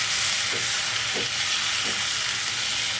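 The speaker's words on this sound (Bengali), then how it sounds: "এই টমেটো কুচিটা আমি এটার মধ্যে তেলের মধ্যে দিয়ে দেবো" Chopped tomato frying in hot oil over cumin and bay leaf tempering for a chicken curry, a loud continuous sizzle close by with three soft stirring scrapes spaced about half a second apart.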